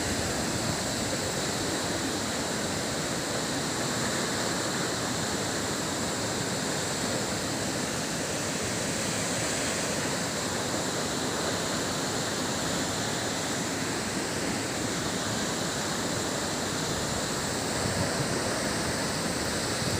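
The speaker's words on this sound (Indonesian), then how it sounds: "Kita sudah sampai di air terjun Silima 5." Silima Lima waterfall in Marancar district, South Tapanuli, pours with a steady, loud, broadband roar that holds unchanged throughout, with no voices over it.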